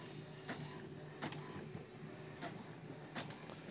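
An Epson M1100 printer prints onto stencil paper with a faint, steady mechanical whir, broken by soft periodic clicks of the print head about every three-quarters of a second; no one speaks.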